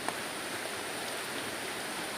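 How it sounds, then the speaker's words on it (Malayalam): Heavy rain falls outdoors in a steady, even hiss, faint and constant with no voices over it. "ഗൈസ്, ഇവിടെ നല്ല സൂപ്പർ മഴ"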